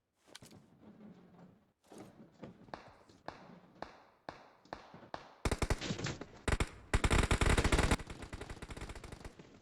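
Gunfire in PUBG Mobile at Pochinki: sparse single shots and short bursts at first, then dense rapid automatic fire growing louder and sharper toward the end.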